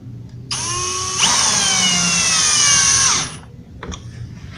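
A power drill drives screws into a melamine-faced MDF board for an office drawer cabinet, with a loud, close motor whine that rises in pitch, holds for about two seconds, then stops, followed by a brief further burst.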